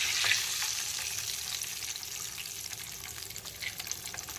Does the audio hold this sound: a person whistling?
no